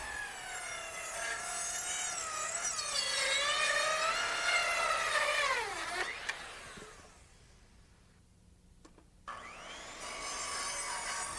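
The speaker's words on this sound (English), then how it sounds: "I square up a cut line from the chalk line and make the cuts." A saw cuts treated deck lumber, its motor whine rising and falling in pitch for about six seconds, dropping away, then starting again near the end, close and fairly loud.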